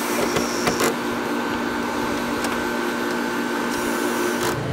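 An RV air conditioner compressor runs with a fresh start capacitor, a loud steady mechanical hum and whir with a few faint clicks and knocks, with no voices.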